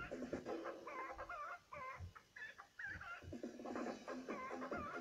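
A video game chicken clucking in quick repeated bursts, a run of short clucks with brief pauses, faint and fairly close, with no speech over it.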